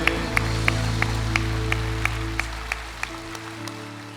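Steady, evenly spaced hand claps keep time over sustained, organ-like music during a church service, fairly clear and close.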